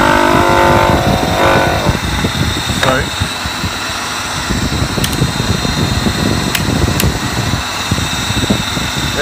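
Modified electric motor running steadily with a load applied to its shaft, giving a loud continuous mechanical whir and hum that stays constant throughout.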